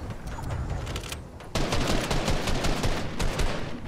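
Rapid bursts of automatic gunfire from a Fortnite match, crackling continuously with a louder, denser volley in the second half, distant shots overlapping close ones.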